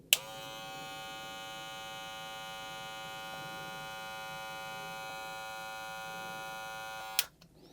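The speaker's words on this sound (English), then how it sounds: "we'll check the sound real quick. Super Taper X first." A Wahl Super Taper X hair clipper switches on with a click, then runs alone with a steady, even electric buzz for about seven seconds before clicking off.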